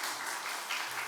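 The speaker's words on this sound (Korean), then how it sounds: "다시 우리 박수 한번 보냅시다" A church congregation claps together in a brief, even burst of applause at moderate volume, with no voices over it.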